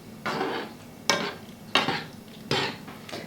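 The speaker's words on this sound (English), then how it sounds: "We're going to add the pasta to our sauce and mix it" Penne being stirred into pesto sauce in a pan, four distinct scraping, clattering strokes of a utensil against the pan at a steady rhythm, close and fairly loud, with no talking.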